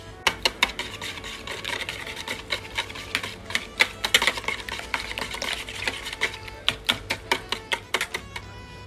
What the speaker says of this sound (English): So I started off by cracking 2 eggs and I'm going to whisk this.